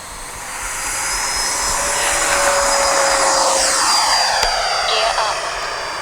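Freewing F-22 Raptor RC jet with electric ducted fans taking off from thick grass without flaps, its whine swelling loud and close, then sweeping past with a Doppler shift.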